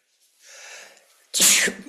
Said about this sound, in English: wow, sneezing attack, excuse me